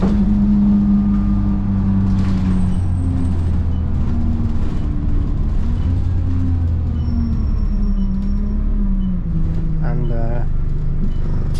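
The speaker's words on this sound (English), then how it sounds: "we're now on board a Enviro 200 by Border Bus" Steady low diesel engine drone inside a Border Bus Enviro 200 single-deck bus, continuous throughout with gear-change shifts in pitch, heard on board with people talking over it.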